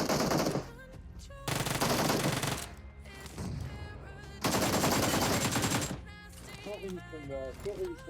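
Loud automatic gunfire in PUBG Mobile, repeated rapid bursts of shots alternating with brief quieter gaps, with a voice talking over the firing.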